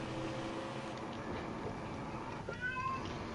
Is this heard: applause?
no